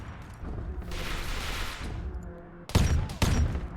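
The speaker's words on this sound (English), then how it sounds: "That Steg's firing machine gun up into that one." Machine gun fire from a Steg in a Warhammer video game battle, a rushing burst of fire followed by two sharp, loud volleys near the end, set against a busy combat din.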